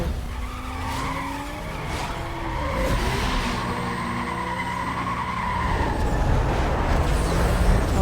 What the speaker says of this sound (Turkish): çok patinaj yapıyor bendeki araba ya